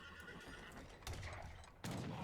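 Hussar cavalry horses in Age of Empires III neigh and whinny loudly, with clip-clop hooves and bursts of game noise between the calls.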